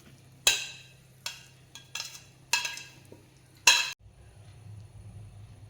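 Carrot sautéed in ghee being added to boiling milk for carrot payasam, several sharp close scrapes and clatters of a spoon against the pot, then a low bubbling simmer alone without voices.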